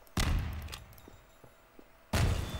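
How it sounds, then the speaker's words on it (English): Explosions in the video game Garry's Mod: two heavy booming blasts, one near the start and one near the end, with a few soft thuds between them. "Hear the explosions."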